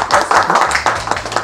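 People in a studio clap for themselves, a short burst of close, dense applause that stays fairly steady with faint voices mixed underneath.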